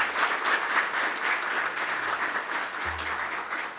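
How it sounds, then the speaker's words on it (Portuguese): An audience applauds during a solemn ceremony honoring a dermatologist, a continuous, even wash of clapping from a room full of people, steady throughout the short stretch. "eu peço uma salva de palmas a vocês"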